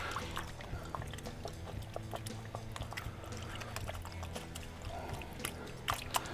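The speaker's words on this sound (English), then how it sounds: "You literally just hold it under the water and press on it with your thumb" A motorcycle helmet pad is pressed with a thumb under a running tap, giving a quiet, steady trickle and splash of water with small squishy drips throughout.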